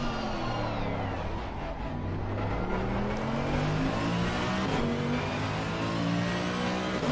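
A GT3 race car with a 6.2-litre naturally aspirated V8 developing around 350 horsepower, on Michelin slicks at Donnington Park, roars steadily and loudly throughout, its engine note rising and shifting as it accelerates and changes gear.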